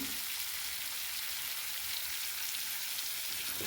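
Water hits spice paste frying in a pan for a satin fish curry with mustard paste, giving a steady, loud, hissing sizzle that fills the whole moment without a break.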